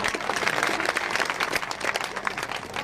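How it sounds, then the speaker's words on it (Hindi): A crowd at an outdoor political rally in Siwana, Rajasthan, claps in a dense, continuous burst of applause that stays loud and steady throughout, with faint voices mixed in. "तो मैं तो बड़े जोर ताली बजाओ"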